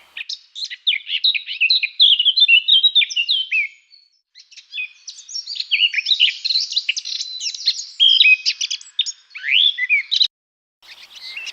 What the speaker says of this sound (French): Même une fauvette à tête noire.